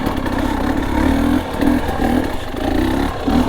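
A GasGas EC300 two-stroke dirt bike engine runs close by on a trail, a rough buzzing idle with blips of throttle and clattery mechanical noise, no talk.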